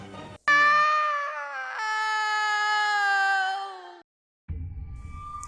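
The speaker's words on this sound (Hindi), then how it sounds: "रात में इस ग्रीन लेडी की चिल्लाने की आवाज पूरे महल में गूंजती है, कुछ इस तरह।" A ghostly woman's scream, the Green Lady said to haunt a palace, rings out loud and close as one long, eerie, wavering wail. It breaks off abruptly, then a lower rumbling sound follows.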